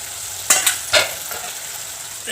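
Chicken curry with potatoes is stirred in a pan on the stove, giving a couple of short scraping strokes over a steady background sizzle.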